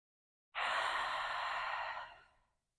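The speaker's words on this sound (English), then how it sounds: "Cleansing breath, inhale in. Open the mouth." A single long, breathy exhale through an open mouth during a power yoga session, close and fairly loud, rising suddenly and tapering off over about two seconds.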